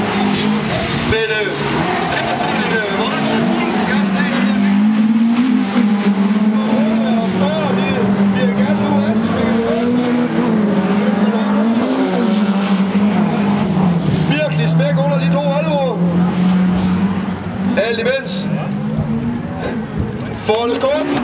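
Race cars on a circuit in a Danish NEZ touring car race, including a Volvo, roar continuously with engines revving up and down, loud and close throughout, under steady commentary.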